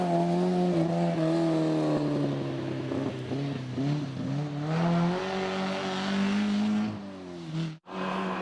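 A Volvo 142 S rally car driving in a rally, its engine droning loud and steady with rising and falling revs, then a brief gear-change dip near the end.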